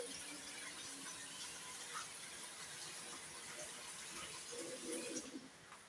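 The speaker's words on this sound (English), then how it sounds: "I have to put some water" Steady rushing water pouring into a basin, continuing for several seconds with a faint clatter near the end.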